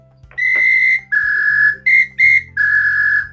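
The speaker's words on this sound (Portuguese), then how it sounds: "E daí tem aqueles apitos, né, bem brasileiros, que tem dois sons." A Brazilian two-tone whistle blown loudly and close in five sharp blasts, alternating between a higher and a lower pitch in short and longer bursts.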